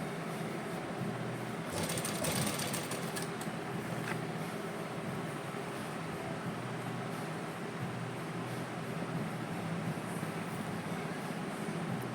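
A sewing machine runs a long stitch, producing a fast, continuous mechanical whirring chatter at moderate distance, with a short brighter rattle early on and no talking.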